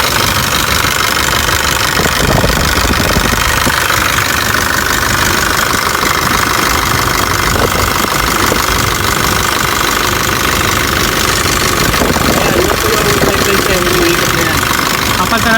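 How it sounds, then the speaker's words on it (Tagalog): A diesel engine idles steadily and loud with a worn, slipping drive belt, its knocking mechanical drone continuous throughout while a voice talks over it. "naririnig mo yung ingay niya, so sliding yung belt niya"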